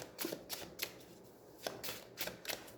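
Tarot cards shuffled and drawn from a deck during a card reading, giving a series of quick papery riffles and snaps in irregular bursts, close and fairly soft, with no voices.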